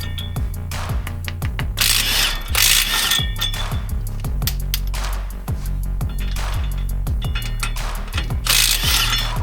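A ratchet wrench with an extension and a 21 mm short socket loosens a front hub bolt on a Ford F-350 dually. It gives a loud, steady run of ratcheting clicks in repeated strokes.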